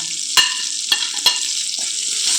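Dried red chillies with onion, curry leaves, salt and tamarind for onion chutney sizzle steadily in a hot pan, close and loud, broken by three sharp scrapes of the stirring spoon.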